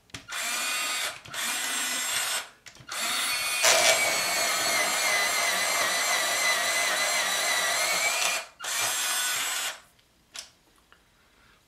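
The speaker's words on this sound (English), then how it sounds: "Perfect sharpening every time." Picasso artist drawing pencil being sharpened in a sharpener, a steady grinding whir running in several long bursts with short pauses between them, loud and close.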